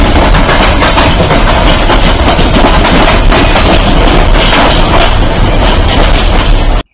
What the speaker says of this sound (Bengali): তারপর ট্রেন আবার যাত্রা শুরু করলো আমাদের গন্তব্যের দিকে।